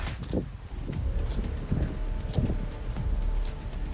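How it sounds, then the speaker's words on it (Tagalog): Gusty wind buffets the microphone in low rumbling bursts, with faint rustling beneath the steady roar. "Medyo mahangin lang po dito no mga kalingap."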